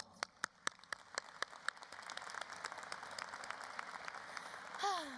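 Scattered claps from a graduation audience at a high school commencement, starting as sparse distinct hand claps and thickening into a faint, continuous patter that fades out.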